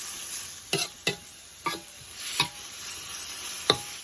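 Beef stir-fried briefly in a pan for Northern Thai sa, with a steady background sizzle broken by five sharp scraping stirs at irregular intervals, close and fairly quiet, no voices.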